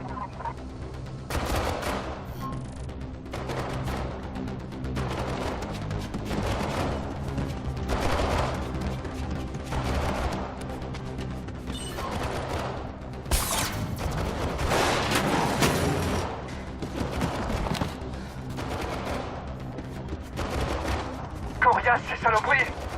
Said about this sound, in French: Ça tire sans arrêt!